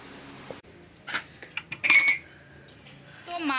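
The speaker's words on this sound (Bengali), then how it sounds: "এখানে মাংসটা ধুয়ে দিচ্ছে" Goat mutton pieces with bone being washed in a metal pot, giving scattered clinks and knocks of meat and metal with splashy rustles, moderately close, with a brief scraping swell near the end.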